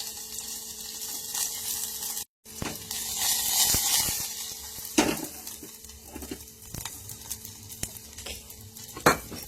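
Garlic and onion sauté in a pan with crackling cumin seeds for a mushroom carrot soup, a close sizzle broken by a brief gap, with irregular scrapes and clinks as a spoon stirs against the pan.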